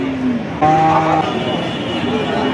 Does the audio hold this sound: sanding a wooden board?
no